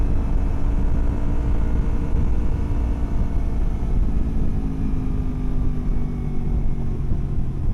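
A Kawasaki Versys X 250 motorcycle fitted with a new exhaust cruises in fourth gear, a steady low droning rumble with wind noise, constant and fairly loud throughout.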